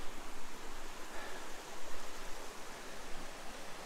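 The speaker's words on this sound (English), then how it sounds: "So we came across this brook" A brook beside a hiking trail flows steadily, a constant broad rushing wash of water, close and even, without talk.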